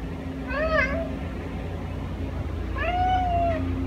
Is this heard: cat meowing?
yes